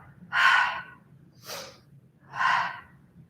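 Three distinct breaths during a mat Pilates exercise, two full breathy exhales framing a shorter, sharper intake, close and clear over quiet background.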